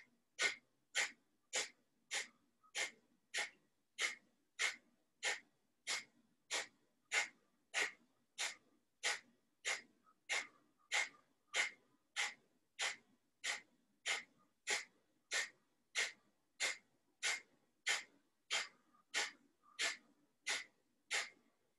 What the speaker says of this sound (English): We can do a quick cleansing detox breath through our nose.